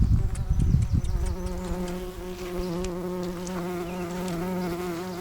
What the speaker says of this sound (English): Are you following the bee?